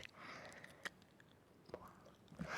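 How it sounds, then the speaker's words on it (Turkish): Someone chews gum close to the microphone, giving faint, wet smacks and soft clicks at irregular intervals over quiet background noise. "Çünkü ağzımda sakız var."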